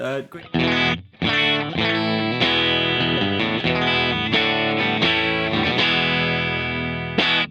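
An electric guitar plays through an AC30 amp into a Celestion Creamback 4x12 cabinet, a loud, driven, chiming tone of strummed chords and ringing notes with brief breaks.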